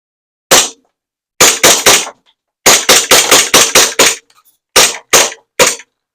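A SAR9 gas blowback airsoft pistol fires a string of sharp, loud cracking shots, single and in quick bursts with brief pauses, the gas growing too weak to cycle the slide.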